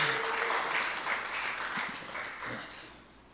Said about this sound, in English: Give him, please, a big applause so that he'll remember.